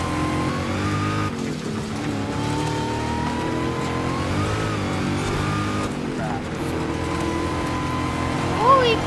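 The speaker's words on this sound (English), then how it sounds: "That trophy truck is fast" In Forza Horizon 5, a trophy truck engine drones loud and close with harmonic revs rising and falling through gear changes, while a voice talks over it and a brief sharp squeal comes near the end.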